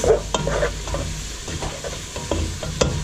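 Flour stirred into browned hamburger in a pot to make a roux for cheeseburger soup, a continuous sizzle with repeated scraping strokes of a spoon, close and loud, no voices.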